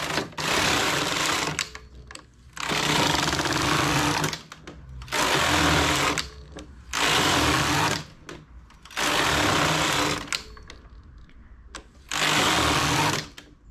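A knitting machine with a front bed works rows of medium-weight wool, its carriage giving loud, rushing passes of about a second each that alternate with short quiet pauses, six bursts in steady rhythm with no talk.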